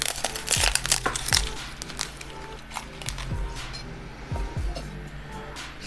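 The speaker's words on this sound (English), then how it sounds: "I'm going to cut at an awkward angle just so you guys can see. But just listen to this." A knife cuts through crispy roasted pork belly crackling, giving loud close crunching and cracking bursts in an irregular rhythm, with no talk.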